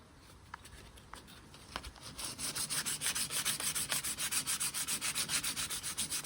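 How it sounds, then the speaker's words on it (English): Coarse sandpaper of 60 grit scrubbed over a fibreglass repair on an old fishing boat hull, starting with a few light scrapes, then settling into fast, steady back-and-forth strokes that stay close and fairly loud. "I'm just going to give it a good sand with some 60 grit"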